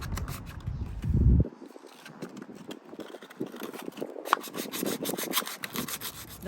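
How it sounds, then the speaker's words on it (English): Rough, rhythmic rubbing strokes of sanding on a vinyl boat and patch, close and fairly quiet, repeating steadily with a brief louder scrape near the start. "Now that we've done sanding the boat and the patch"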